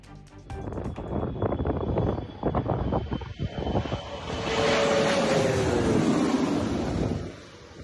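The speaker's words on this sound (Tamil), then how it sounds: "அமெரிக்காவின் டெக்சாஸில் நூலிழையில் விபத்தில் இருந்து தப்பிய போயிங் 777 ரக சரக்கு விமானம்." A Boeing 777 cargo plane at a private airfield in Texas roars past, its engine noise swelling into a loud, sustained whine and rush with heavy wind buffeting the microphone.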